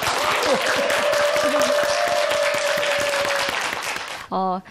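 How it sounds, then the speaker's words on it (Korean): Studio audience applause welcoming a lecturer onto a Korean morning talk-show stage, a dense, steady wash of clapping that holds loud for about four seconds with a voice sounding over it, then tails off before a short tonal burst. "박수로 강의를 청해 듣겠습니다"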